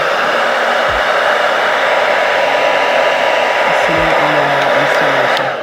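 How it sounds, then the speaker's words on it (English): A hair dryer blows continuously at close range during a bolt cap wig installation, a loud, even roar of rushing air that holds steady with only slight shifts before tapering at the end. "I'm just going to go in with a bit of hair dryer"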